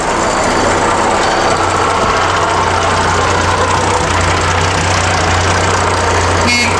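A six-cylinder Perkins diesel engine in a tractor running steadily: a loud, continuous low drone with a rough knocking texture, no pauses and no talk.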